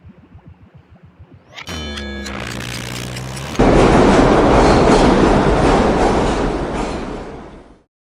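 A train rumbles past at close range, its steady clatter loud and rising after a quieter start with a brief tonal horn-like ring, then fading out.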